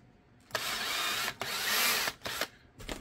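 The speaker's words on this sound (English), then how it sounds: "Drill out the holes." A power drill bores holes in a Kydex-style holster for an FNX X300 light, giving several loud, close whining bursts of drilling separated by brief pauses.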